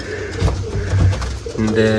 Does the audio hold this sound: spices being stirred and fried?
no